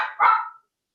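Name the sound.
dog barking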